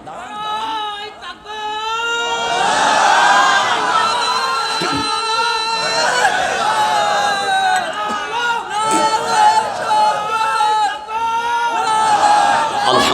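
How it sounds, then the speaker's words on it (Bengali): A standing crowd at a religious sermon roars out the Nara-e-Takbir slogan in loud repeated chants and shouts, full of overlapping voices that rise and fall in waves. "বীর পুরুষকে একটু নারায়ে তাকবীরের স্লোগান দেন তো দেখি"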